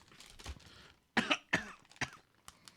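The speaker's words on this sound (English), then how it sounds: "That was a fake cough." A single fake cough followed by a few short throat-clearing bursts, close and fairly quiet, with breathy sounds before it.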